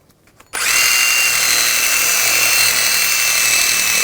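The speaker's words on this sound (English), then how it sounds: "Now I'm going to use a wire brush, clean up the hub surface, get any corrosion or rust off." A wire brush, apparently power-driven, scrubs rust and corrosion off the rear brake hub of a 2007-2013 BMW 328i, starting after a brief quiet moment and running as a steady, loud, harsh whir with a high whine throughout.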